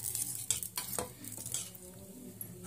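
A spoon stirs thin wheat flour batter for a breakfast recipe, producing a few wet scraping strokes and soft clinks against the bowl, close and fairly quiet.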